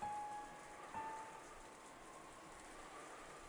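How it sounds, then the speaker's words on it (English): Steady rain hiss in a visual novel video game, rain seeping into a quiet dining hall, a continuous wash of noise throughout with faint tonal hums, no voices. "the meal ended up being so quiet that you couldn't ignore the sound of the rain sneaking into the dining hall"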